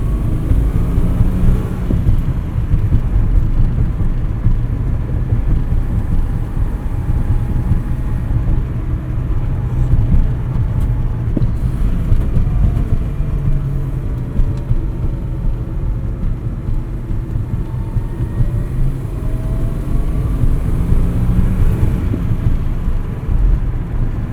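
A 1971 Datsun 240Z with a five-speed cruises along a highway, its engine and road noise forming a continuous low droning rumble that holds steady throughout without talk.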